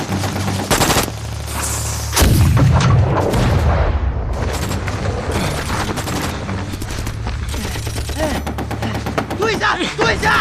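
Gunfire and artillery crackle and boom during the Battle of Shangganling in the Korean War, with dense bursts of rapid shots and heavy blasts in a loud, continuous barrage as voices shout beneath.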